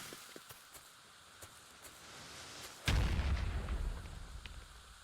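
A block of TNT blows up in a Minecraft-style game, a sudden loud boom that rolls on for about a second and a half before fading, after a stretch of soft clicks and quiet ambience.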